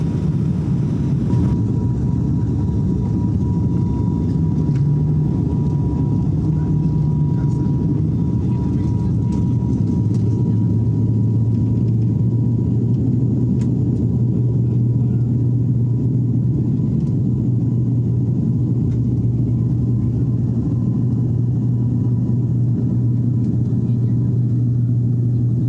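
Steady, loud engine drone inside an airplane turning sharply to come in and land at an airport in Flores, a continuous rumble with a faint high whine held throughout.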